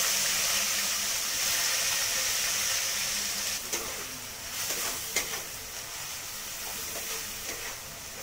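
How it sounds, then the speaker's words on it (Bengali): Chopped onion, dried chili and bay leaf fry in hot oil with a steady, bright sizzle and hiss, broken by a few soft stirring scrapes partway through. "এই তেলের মধ্যে দেব আমি শুকনো লঙ্কা তেজপাতা, এবার দেব আমি পেঁয়াজ কুচি"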